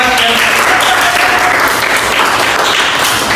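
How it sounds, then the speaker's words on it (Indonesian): Classroom applause from students for a group that has just finished a presentation, dense, steady clapping that fills the room throughout at close range, with some voices mixed in. "tepuk tangan untuk kelompok 4."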